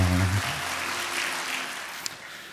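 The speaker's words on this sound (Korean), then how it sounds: "서로에게 축복의 박수를 드립니다." Steady applause from a large church congregation fills the space, a continuous even patter of many hands clapping, beginning just as a low sustained tone fades.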